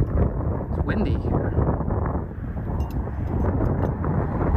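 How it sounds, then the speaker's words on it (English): Steady wind in Yakima, Washington buffets the microphone with a rough, rushing roar, and a voice can be heard faintly under the gusts. "It's windy here."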